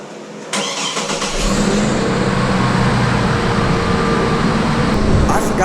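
A 2002-2009 Chevy Trailblazer 4.2L inline-six cranks briefly and catches, then settles into a steady, loud idle that runs on unbroken to the end, close to the listener.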